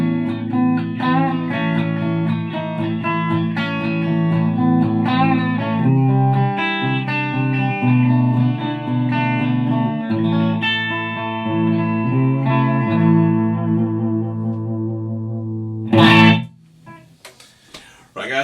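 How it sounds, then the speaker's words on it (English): An electric guitar played through a ZT Lunchbox amp into a Marshall 2x12 cabinet on the bridge pickup, sustained distorted chords ringing continuously and loudly, then cutting off into brief speech near the end. "we're going to put it through the Marshall 2B12 and see how it sounds in kind of real world studio environment"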